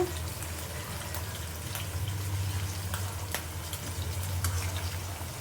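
Onions frying in oil on a stove while fish and a jackfruit-seed dish are cooked, a steady close sizzle with faint watery crackle and occasional sharp clicks, no talking.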